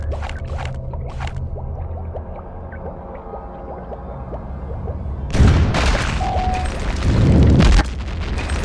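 Rockets fired in a space combat video game, a sustained low rumble with faint bleeps, then two heavy booming blasts close together near the end, loud and alone.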